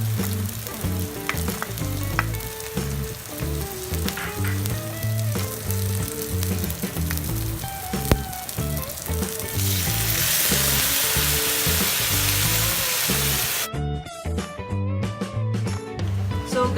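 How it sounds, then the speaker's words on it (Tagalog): Garlic and onion sautéing in a pan for sotanghon with meatballs: a steady, close frying hiss that swells louder and brighter in the second half, with faint tonal background sounds running underneath. "So, susutay na tayo ng garlic and onion."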